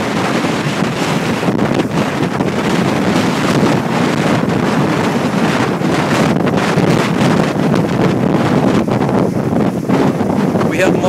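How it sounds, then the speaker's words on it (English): Strong wind from tropical storm Isaac, with intermittent squalls, roars as a loud, continuous gusty rush with heavy buffeting against the microphone throughout. "We have multiple winds and squalls coming in intermittently."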